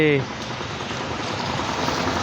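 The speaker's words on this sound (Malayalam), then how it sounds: "മഴ ഇപ്പം ഇത്തിരി കുറഞ്ഞിട്ടുണ്ട് കേട്ടോ" A soft, steady patter of rain hisses throughout, with a brief voice-like tone at the very start before the rain continues alone.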